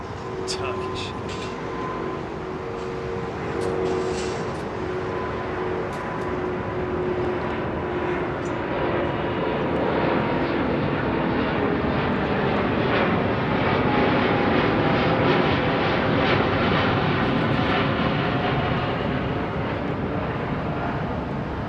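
A Turkish jet airliner at London Heathrow Airport roars as its engines build into a loud, continuous, swelling rumble that holds for about twenty seconds, with faint voices underneath.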